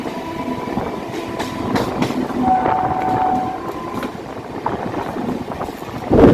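A local train runs from Sealdah toward BBD Bag, a steady rumble of wheels and carriages with a brief horn tone, close and continuous.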